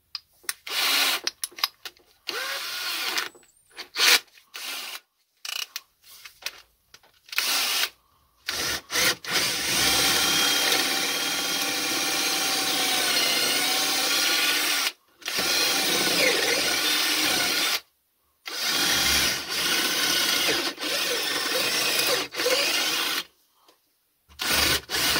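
Cordless 12V drill powered from a car battery driving screws into wood, a loud close motor whir in repeated bursts of several seconds each, broken by short silent pauses between runs.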